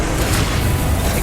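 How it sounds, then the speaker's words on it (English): The Expelliarmus disarming spell cast in the Hogwarts Legacy game bursts out as a loud, dense, roaring whoosh, a single sustained blast lasting about a second, heard alone. "Expelliarmus!"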